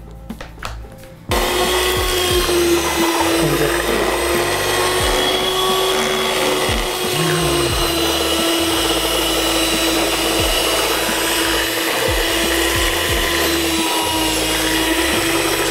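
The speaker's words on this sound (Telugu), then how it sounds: "దీంతో అయితే బాగా మిక్స్ అవుతుంది మెషిన్తో" An electric mixing machine churns a batch of powder mixture with a loud, steady motor whine and grinding rumble. The sound starts abruptly after a brief quieter moment and then runs on without pause, with no talk.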